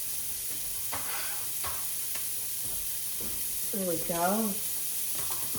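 Onions sautéing in about two tablespoons of butter in a home kitchen, a soft steady sizzle with occasional stirring clicks close by, and a person speaks briefly partway through.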